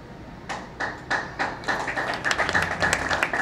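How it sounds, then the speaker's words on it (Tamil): An audience claps at a speech event, starting as a few separate sharp claps and quickly building into quicker, overlapping applause over a few seconds. "கை தட்டுறவர் பாதிக்கப்பட்டவர்."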